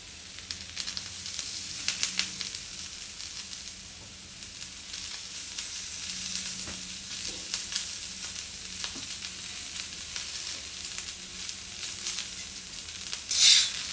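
Onion fries in a pan of oil for a Kokani-style onion-coconut masala, a steady close sizzle and crackle that runs the whole time with faint stirring and a small clatter near the end.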